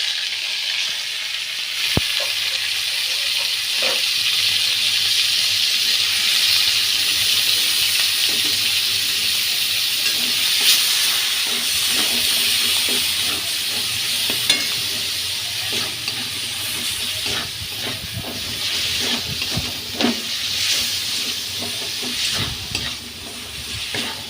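Hand-ground spice paste frying in oil with nigella seeds, a continuous loud sizzle with frequent clattering stirs and scrapes of the spatula across the pan, close and unbroken by speech.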